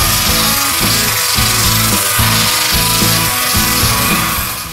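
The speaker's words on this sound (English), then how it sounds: "The guys spent a couple of days at least sanding and sanding and then sanding some more." Loud rhythmic rasping of power sanding on a sailboat hull, repeating strokes back and forth at a steady pace, up close with no talk.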